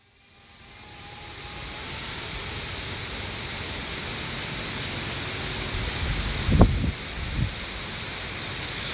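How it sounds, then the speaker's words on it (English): Strong wind buffeting a microphone outdoors during a DJI Mavic Air drone flight, a constant broadband rush that swells after the start, with a couple of brief low thumps near the end. "A little windy out today."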